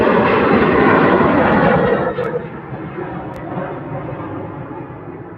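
An Airbus A321 jet in Turkish Airlines livery roars loudly through its takeoff at Manchester Airport, the heavy broadband rumble holding steady before easing slightly into a sustained, more distant engine drone.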